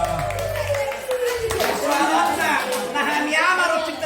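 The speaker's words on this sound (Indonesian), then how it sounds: "Tepuk tangan dong buat kita semua." Clapping from a crowd at a Batak Bona Taon community gathering in Cakung, East Jakarta, with voices and music-like tones mixed in throughout the moderately loud, steady scene.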